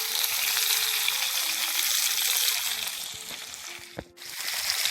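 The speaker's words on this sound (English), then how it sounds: "We just sauteing up our vegetable" Vegetables sauté with garlic and thyme in a hot pan, a steady broadband sizzle close up that runs continuously, with faint scraping and a brief dip near the end, and no voices.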